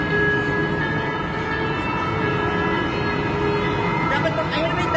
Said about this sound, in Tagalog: Dapat pag, ayun may tren.